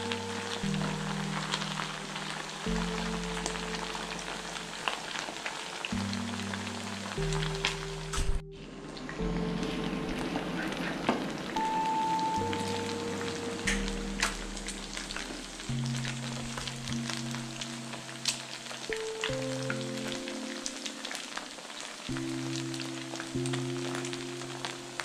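Chicken 65 deep frying in hot oil gives a steady, dense sizzle and crackle that runs without a break, with some low background hum underneath.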